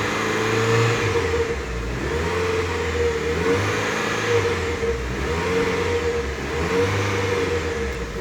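A tuned Chevrolet Celta 1.0 engine revs hard in repeated cycles, its pitch climbing and dropping every second or so in a steady rhythm. It is loud and close, with no voices over it.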